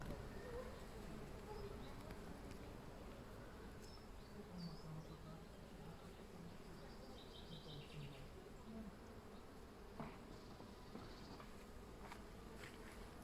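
Bees swarm in a flowering linden tree, a dense steady buzzing hum of many insects throughout, with a dove cooing softly in the background.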